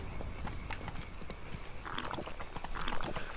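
Hooves of Roach, Geralt's horse in The Witcher 3: Blood & Wine, clip-clop in a steady close walking rhythm, with a brief whinny-like tone near the end.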